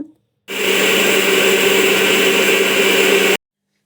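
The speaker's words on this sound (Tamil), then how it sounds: "இது நல்லா ஆறுனதுக்கப்புறம் ஒரு மிக்ஸி ஜாருக்கு மாற்றிக்கோங்க." A kitchen mixer grinder whirs loudly and steadily for about three seconds, grinding cooled roasted black urad dal and rice into powder, then stops abruptly.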